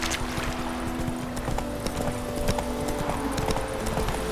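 A horse's hooves clip-clop steadily in The Witcher 3 video game, a brisk continuous trot over a dense, constant ambient background, with no speech.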